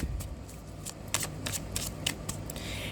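Tarot cards are riffled and shuffled by hand in a quiet room, giving a series of crisp, close flicking and slapping bursts at an uneven rhythm, with a longer rustle toward the end.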